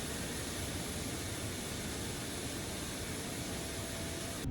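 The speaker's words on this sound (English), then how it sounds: "We will now start engine number 1." Jet engine number 1 of an IniBuilds A350 in Microsoft Flight Simulator, spooling up as a loud, steady broadband roar with a constant high whine, unchanging throughout and with no talking over it.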